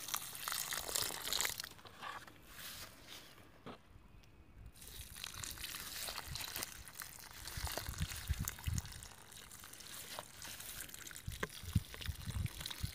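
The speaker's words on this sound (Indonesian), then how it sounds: "Siram sampai media benar-benar basah." Water pours steadily and splashes onto a mango plant's soil, with soft crunching and trickling as the ground soaks it up, close and continuous.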